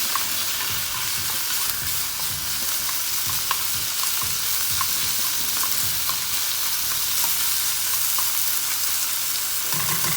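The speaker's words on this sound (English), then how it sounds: "let's stir that around a little bit" Chicken seasoned with salt and pepper frying in a pan for chicken satay, a steady loud sizzle with scraping stirring strokes and clicks of the utensil against the pan, no voices.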